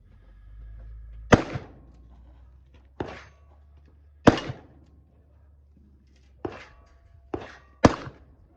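Six sharp handgun shots from a Ned Kelly 1880 shooting scenario crack out at uneven intervals, each a loud, close report with a brief ringing tail over quiet background.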